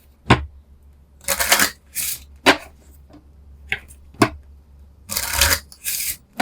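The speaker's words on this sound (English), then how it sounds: "I'm going to do some angel therapy cards." Angel therapy cards being shuffled up close, a series of short riffling and sliding bursts separated by quiet gaps, with several longer rustling runs.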